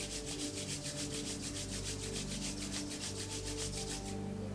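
Palms rub briskly together during a Kundalini yoga session, a close, steady rhythmic swishing of about a dozen quick strokes, with a faint background drone.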